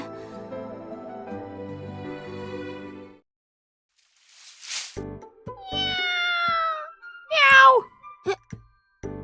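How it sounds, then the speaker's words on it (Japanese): A little kitten meows close by several times in high, drawn-out, wavering cries, with a short rising squeal near the end, after a stretch of low background sound and a brief silence. "spotted a little kitten crawling out of one of the nearby flower beds"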